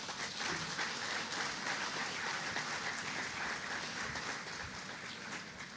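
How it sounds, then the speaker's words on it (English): A crowd at the unveiling of Grenada's commemorative Golden Jubilee EC$50 note breaks into sustained applause, a broad, even roar of many hands clapping that holds steady throughout. "I didn't expect an applause in the salutation."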